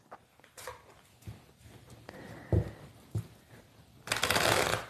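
A deck of tarot cards is shuffled nearby, giving several short riffling bursts and soft taps, with a longer, louder riffle at the end.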